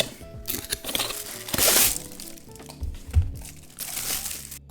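Packaging around a color-changing mug is torn open and handled, giving close crinkling, rustling and crunching of paper and plastic in irregular bursts, with a louder crumple near the middle and no talking.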